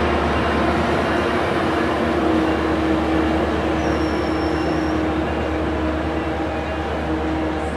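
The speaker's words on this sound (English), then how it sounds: "Train 581 now arriving at Fullerton." Train 581 pulls into Fullerton station with a loud, continuous rumble and a steady mechanical drone. A faint high squeal from the wheels rises briefly in the middle. No voices are heard.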